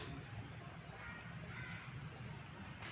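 Steady rain falls outdoors in the background while fish curry with luffa is being cooked, a constant soft hiss of drops running evenly throughout, with faint low clatter beneath.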